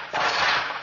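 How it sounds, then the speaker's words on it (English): A gunshot rings out from a home during the Farmington mass shooting, a sudden loud crack that trails into a drawn-out, noisy echo. "Multiple gunshots could be heard from his home"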